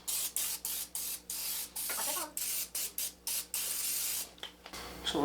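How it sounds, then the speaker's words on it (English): Cooking spray from a can misting into a Pyrex dish, a rapid series of about a dozen short, loud hissing bursts followed by one longer spray and some light clatter. "I'm going to spray this."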